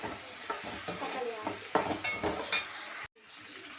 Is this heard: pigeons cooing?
no